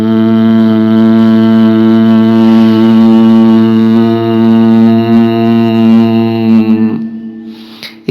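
A single sustained vocal drone imitating the Om chant, a deep steady hum with rich stacked overtones held evenly for about seven seconds, then fading out.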